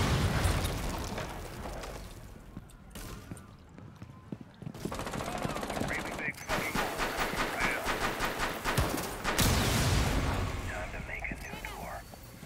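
Soft breach charges blowing through walls in Rainbow Six Siege, heard as several loud, sharp blasts separated by gaps, mixed with gunfire and debris noise, while players talk over the action.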